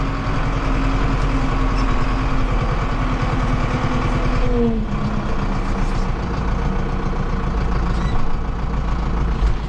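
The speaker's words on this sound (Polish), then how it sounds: "teraz jadę już zaparkuję ciągnik sobie" A tractor's diesel engine chugs steadily up close, a loud low rhythmic rumble that runs throughout, briefly shifting pitch midway as it works.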